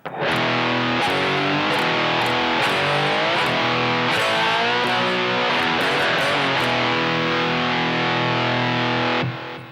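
A distorted electric rock guitar, with an effects unit, plays a dense rhythmic phrase with sliding chord shapes. It is loud and continuous with accented strums throughout, ending with a final slide and sudden stop, and no talking.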